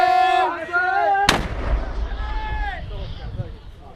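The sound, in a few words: frontline mortar fire in an Iraq war VR video game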